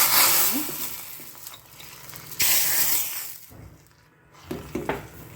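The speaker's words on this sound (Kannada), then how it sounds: "ಎಣ್ಣೆ ಸಾಸಿವೆ ಜೀರಿಗೆ ಹಿಂಗು ಮತ್ತು ಒಂದು ಒಗ್ಗರಣೆ ಮೆಣಸು ಹಾಕಿರೋದು ಒಂದು ಒಳ್ಳೆ ಒಗ್ಗರಣೆ" Mustard seeds, cumin, asafoetida and chili tempering in hot oil for a traditional saaru, a loud hissing sizzle that swells, fades almost to silence, then returns with a few crackling pops near the end.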